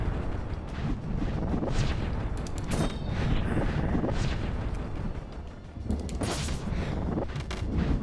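Gunfire and heavy booming impacts from an indie video game fill a loud, dense, continuous wash of noise, with a brief dip before the barrage resumes.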